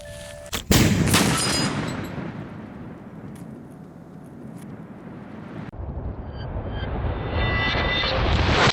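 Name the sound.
target explosion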